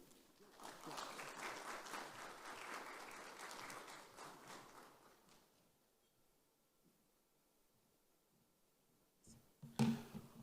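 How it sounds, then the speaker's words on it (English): At a digital finance conference, clapping swells for several seconds and then fades to near silence, followed by a brief loud thump or knock at the end. "another round of applause for Dr. Ken and Dr. Deban"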